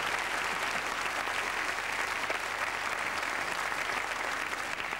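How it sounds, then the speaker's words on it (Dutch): Dense, sustained applause from a TV studio audience at a Flemish comedy show, loud and even throughout with no pauses or talking. "een geweldig applaus aan onze publiek"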